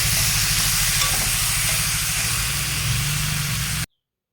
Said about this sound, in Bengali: এইভাবে ভালো করে মাংসটা কষাতে থাকবে